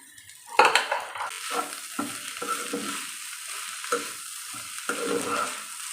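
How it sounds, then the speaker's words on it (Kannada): Egg rice frying in oil in a pan gives a steady close sizzle, broken by repeated scraping strokes of a spatula stirring it. "ಇದು ಸ್ವಲ್ಪ ಹೊತ್ತು ಎಣ್ಣೆಲಿ ಫ್ರೈ ಮಾಡ್ಕೊತೀನಿ"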